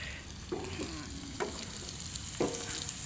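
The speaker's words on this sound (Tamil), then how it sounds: "அப்படியா வதங்கி கொண்டிருக்கு பாருங்க" Ingredients being sautéed in a pan for a fried intestine dish, a soft continuous sizzle with three distinct scraping stir strokes, fairly quiet and with no voices.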